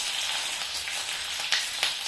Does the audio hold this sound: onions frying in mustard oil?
yes